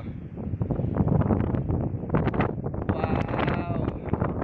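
Strong gusty wind on a mountaintop on Calaguas island buffets the microphone in a steady, close roar with fluctuating rustle.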